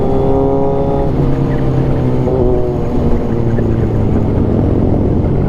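Several big bike motorcycles pass loudly on a road during a Sunday ride, their exhausts droning and shifting pitch as they go by one after another, a steady close engine roar with no voices.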